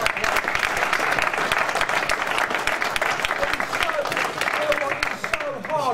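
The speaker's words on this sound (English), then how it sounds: "A big round of applause for Chris." Loud crowd applause at a Cage Rage UCMMA 25 mixed martial arts pre-event press conference, with thick continuous clapping mixed with voices, shouts and cheers that carry throughout before easing slightly at the end.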